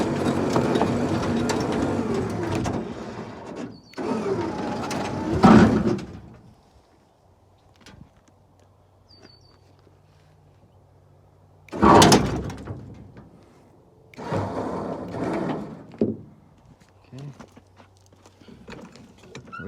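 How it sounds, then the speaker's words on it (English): A winch hauls a 1978 Ford dually in bursts of grinding, clattering mechanical noise separated by quiet gaps, with several loud pulls close to the microphone over about twenty seconds. "winch a bit more"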